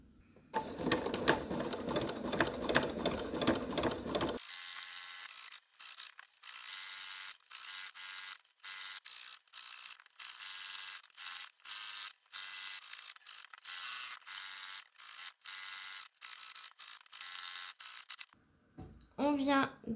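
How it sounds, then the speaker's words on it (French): A sewing machine with a zipper foot stitches a cushion seam close to piping cord. Fast rattling bursts come in a row of short runs separated by brief pauses, after a stretch of talking at the start. "Le but étant de venir repasser une couture au plus près de la cordelette du passepoil"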